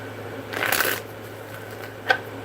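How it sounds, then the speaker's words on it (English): A tarot card deck being shuffled by hand, a close, soft riffling burst of cards followed by a short snap of cards a moment later over a quiet room hum. "Let's go ahead and give it one more shuffle."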